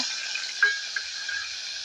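Tomatoes dropped into hot cumin tempering in a clay pot, giving a steady soft sizzle with a brief louder splash of frying near the start, no talking.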